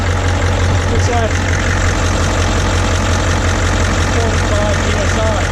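A warmed-up boat engine idles at Great Harbour Cay with a loud, steady, unbroken drone that has a low rumble throughout.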